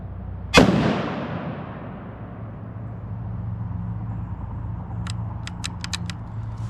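One loud, close pistol gunshot cracks at a target and decays into a long echoing tail, followed later by a quick cluster of faint, sharp clicks.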